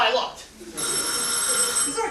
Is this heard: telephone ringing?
yes